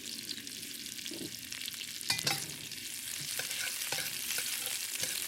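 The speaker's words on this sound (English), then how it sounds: "And stir fry for a few seconds." Garlic and onion being stir-fried in a hot wok: a continuous bright sizzle with scraping spatula strokes and a louder clatter partway through, close and steady, without any talking.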